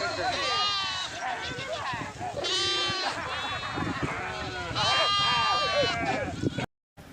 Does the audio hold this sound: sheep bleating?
yes